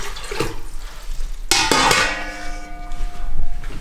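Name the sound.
water poured into a Berkey water filter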